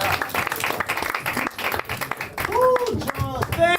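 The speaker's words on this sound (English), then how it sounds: "Keep clapping for him until he gets to the stage" A comedy show audience claps for a comedian walking to the stage, a burst of crowd applause under an emcee's talking that thins out, giving way to whistles and cheers near the end.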